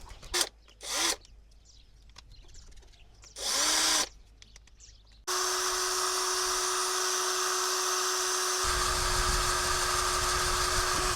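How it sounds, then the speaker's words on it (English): A power drill whirs steadily for several seconds at close range, its motor pitch dropping partway through, after a few short bursts of rustling. "I'm gonna do a drill then."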